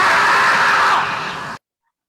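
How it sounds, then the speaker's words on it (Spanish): Loud, distorted shouting and yelling from several people spills over a meeting call for about a second and a half, fading slightly before cutting off abruptly into silence. "no escucha bien, oigo gritos detrás."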